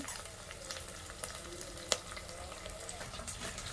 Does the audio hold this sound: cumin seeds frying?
yes